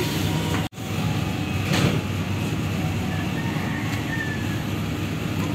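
The KA Banyubiru passenger train runs from Solo toward Semarang, a continuous loud rumble of wheels and carriage noise heard from inside the car, broken early by a brief sharp dropout.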